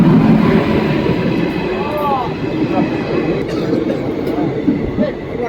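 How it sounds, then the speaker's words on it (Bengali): The 13018 Ganadevta Express rolling into a station on the Bolpur Shantiniketan to Howrah line, a loud rumbling clatter of wheels and carriages close by, with people talking over it on the platform. "চলে আসছে আমাদের ট্রেন গণদেবতা এক্সপ্রেস, বহু প্রতীক্ষার পরে।"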